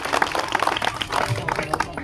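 Clapping from an audience at a disability welfare gathering in Sitapur, India, a burst of scattered hand claps of moderate loudness that carries on steadily for the two seconds.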